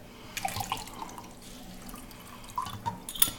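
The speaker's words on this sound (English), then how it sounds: "then you just pour out the liquid." Liquid pours out of a pop-top canteen bottle with quiet trickling, dripping and splashing, a few small plops and a glassy tick, faint and close, with no talk.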